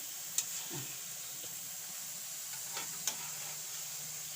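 Jalebi batter frying in oil that is kept only moderately hot gives a steady, quiet sizzle throughout, with a few faint clicks and scrapes from the utensil.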